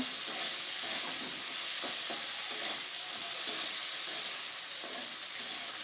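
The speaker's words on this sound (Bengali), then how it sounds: "এগুলো দিয়ে আমি বেশ কিছুক্ষণ কষিয়ে নেব" Tomatoes and spices sautéing in a pan for moong dal with fish head, a steady close sizzle with faint stirring scrapes, no talking.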